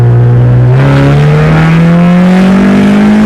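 A subscriber's worn car engine with about 189,000 miles revs up loudly and close, its strained, brassy tone climbing steadily over a few seconds with no talk.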